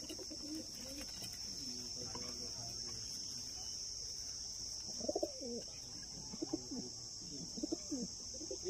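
Pakistani Golden pigeons at a loft in Durgapur give soft, low cooing calls in short repeated phrases over a steady high insect drone, faint and fairly close.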